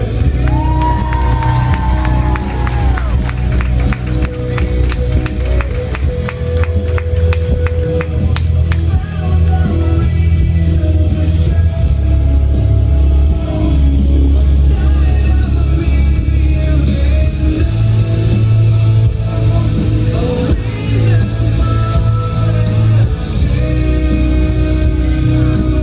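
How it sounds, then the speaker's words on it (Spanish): Guests at a quinceañera celebration cheer and whoop over loud festive music, a continuous crowd roar with shouts rising and falling throughout. "Fuerte el aplauso para María Rosas Flores."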